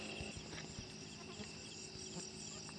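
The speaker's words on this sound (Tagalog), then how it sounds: "So, ang dami ng insekto. Lumalabas na mga insekto." Dense chorus of many insects chirping in a farm field, a steady shrill drone with faint scattered clicks, no voices.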